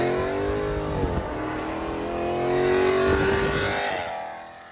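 Extremely loud car engine starting and revving hard, with throttle blips and a sustained high-pitched roar that swells near the end, then drops away; close and loud, no talking.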